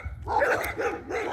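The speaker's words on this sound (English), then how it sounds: "I'm sorry about the barking." A dog barks several times in quick succession on a road during a walk, loud and fairly close, with no voices heard.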